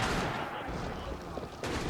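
Sustained gunfire roars almost without pause in a prison escape video game, a dense, loud wash of shots that briefly thins and then surges again.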